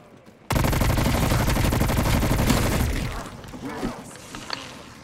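A pack-a-punched legendary shotgun in a zombies video game blasts in a dense, loud volley of rapid shots that fades into scattered impacts and faint game noise.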